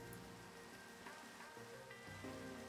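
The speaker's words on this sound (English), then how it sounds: "It's just dark because it's raining." Steady, faint rain in Minecraft patters evenly on the ground, a soft continuous hiss with no voices.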